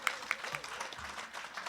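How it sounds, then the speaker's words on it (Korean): Applause from the audience at a founding general meeting of a provincial residents' council, sparse and fairly quiet, with a few sharper claps standing out near the start and a faint voice underneath. "큰 박수 부탁 올리겠습니다"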